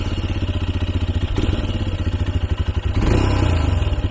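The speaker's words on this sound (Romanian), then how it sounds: "Cam așa sună motocicleta asta" A Royal Enfield Himalayan 400cc motorcycle engine runs close by with a steady, pulsing thump, rising slightly in intensity partway through, heard alone without talk.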